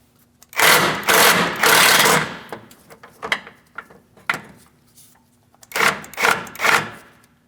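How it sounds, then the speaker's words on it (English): An 18mm swivel socket on an extension works loose a sway bar link nut on a 2016-2025 Chevrolet Malibu, giving bursts of close ratcheting and grinding in a few spurts with short pauses between. "Let's go ahead and break this free. For this, I'm just using an 18mm swivel socket."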